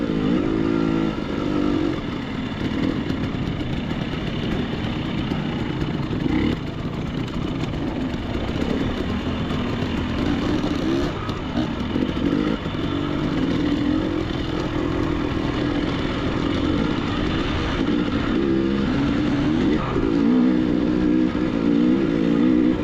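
Dirt bike riding over slick rock, a continuous loud engine drone that rises and falls with throttle changes, close to the rider throughout.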